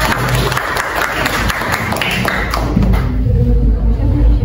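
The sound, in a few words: applause for the group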